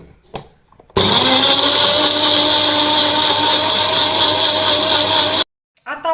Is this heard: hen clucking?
no